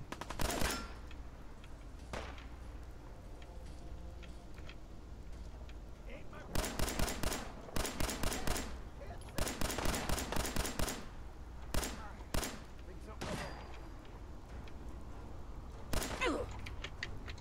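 Rapid bursts of gunfire in the Fallout 4 video game, clustered volleys crackling in the middle section with scattered single shots before and after, over a steady game background.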